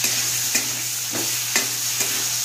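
Chili and turmeric frying in a pan for veg biryani keep up an even sizzle while a spoon stirs, giving soft scraping swishes about once every half second to second, close by.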